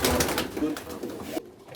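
Short faced tumbler pigeons coo in a loft, a few soft low murmuring calls heard close by amid background talk and shuffling before the sound cuts off.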